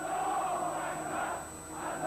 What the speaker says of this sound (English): In Iran, crowds were screaming, "God is great."